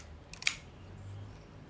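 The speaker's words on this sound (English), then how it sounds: "I'm gonna wind it" The film advance on a Kodak Retina 1B folding camera with a Schneider Retina Xenar 50mm f2.8 lens gives a short, close mechanical ratcheting click, then a faint whirring in a quiet room.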